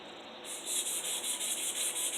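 Sandpaper rubbed by hand along a fillet knife blade to remove belt-grinder marks, a steady rhythmic scratching in regular back-and-forth strokes, close and fairly loud with no talking.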